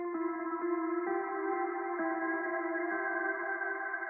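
Sustained synth-like tones of an ambient lo-fi beat with repeated note onsets, washed in a heavy reverb tail that smears each note into the next; steady and fairly loud, no voices.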